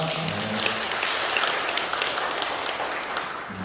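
Congregation applauding in welcome during a Catholic Sunday Mass in Lent, a steady, fairly soft patter of many hands clapping throughout.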